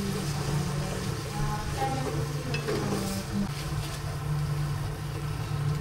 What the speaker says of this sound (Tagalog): Habang niluluto po natin yung kamatis